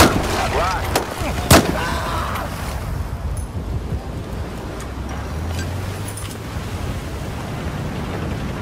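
A sharp, loud explosion from the Battlefield 4 video game on Xbox One bursts early, followed by a sustained roar of wind-like rumble and debris that fills the rest of the stretch.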